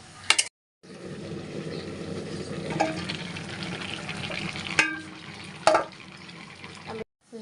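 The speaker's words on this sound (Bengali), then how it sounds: "শুধু এইটা নাড়াচাড়া করে একটু ঢেকে রাখবো, তাহলে লাউটা সিদ্ধ হয়ে গলে যাবে।" Bottle gourd is stirred in a wok as it cooks, giving a steady low scraping and simmering texture with a few sharper clinks of the spatula against the pan, after a brief pause near the start.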